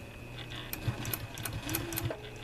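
A sewing machine stitching a sweatshirt, a brief run of rapid rhythmic needle clatter with small mechanical clicks, close and moderately quiet.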